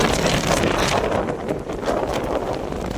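Strong wind at sea during a rainstorm roars steadily and loudly, buffeting the microphone with a constant broadband rush and no pauses.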